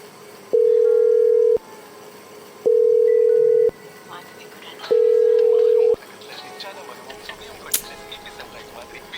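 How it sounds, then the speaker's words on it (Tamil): A telephone rings unanswered, three steady electronic tones of about a second each separated by short pauses, followed by faint room noise. "ஏன் ஃபோன் எடுக்க மாட்டேங்கிறா"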